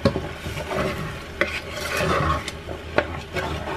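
A spoon scrapes and stirs ground beef in a pan with a steady rasping shuffle and occasional clacks, with faint sizzling underneath and no voices.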